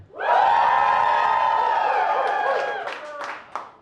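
A loud comedy-show crowd cheers and whoops with scattered clapping, a sustained roar that swells quickly and then fades out over a few seconds.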